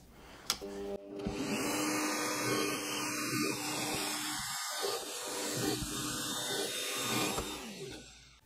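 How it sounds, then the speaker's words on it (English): Power drill boring holes through pallet wood resting on a scrap of MDF, a steady, fairly loud whine with short dips as the bit breaks through, running almost continuously. "So now we can go and drill these out."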